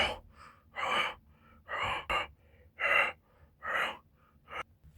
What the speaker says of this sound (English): See, he's just breathing right now